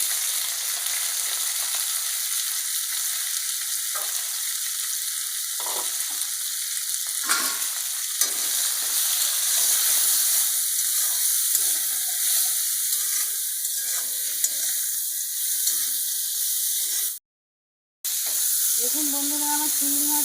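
Prawns fry in a pan with salt and turmeric, giving a steady close sizzle and hiss with occasional stirring scrapes, broken by a brief silent gap near the end.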